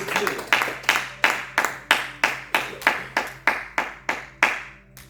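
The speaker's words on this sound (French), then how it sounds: "Acclamons la parole de Dieu, s'il vous plaît. Est-ce qu'on peut acclamer la parole de Dieu?" Church congregation clapping in a steady rhythmic beat, about a dozen sharp group claps evenly spaced, close and fairly loud, acclaiming the word of God during a French-language sermon.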